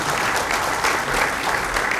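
Warm applause fills a church hall at a dedication and founding service as a speaker is welcomed, many hands clapping steadily and evenly with no voices over it.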